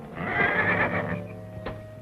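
A horse whinnies loudly at close range in a 1940s Western film setting, one long shrill neigh fading out, followed by a brief snort.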